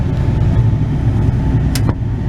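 A short sliding clunk from the rear partition window of a Ford Police Interceptor Utility cuts briefly through the steady roar of the heater blower running on high inside the cabin.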